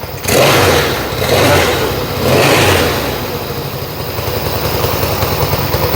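A Yamaha XS1B motorcycle engine being tuned runs close and loud, revving up sharply twice before settling into a rougher, steadier running note.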